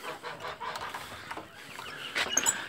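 Hens and about a hundred chicks of various ages move about together on a small farm, clucking and peeping. The sound is a faint, scattered farmyard chatter with a brief cluster of high chick peeps near the end.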